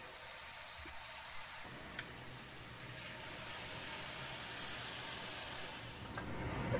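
Marinated mutton pieces dropped into a hot pan for mutton kosa set off a broad, steady sizzle that rises after a quiet start and keeps hissing loudly to the end.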